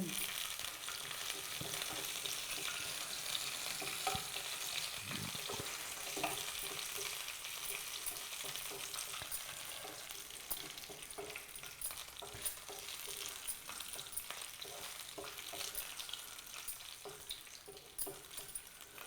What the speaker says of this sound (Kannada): ಸ್ವಲ್ಪ ದ್ರಾಕ್ಷಿ ಈಗ ಅದು ಚೆನ್ನಾಗಿ ಫ್ರೈ ಆಗಬೇಕಾ